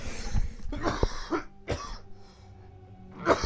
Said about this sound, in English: pause and cough